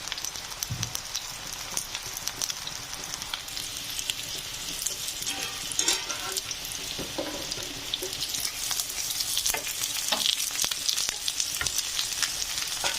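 New potatoes fry in a pan, a steady dense sizzle with occasional stirring scrapes, close and continuous throughout.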